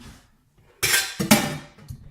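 A metal pot and a glass clatter together in a kitchen, a sudden loud clanking burst followed by a second ringing clink that fades out within a second or so.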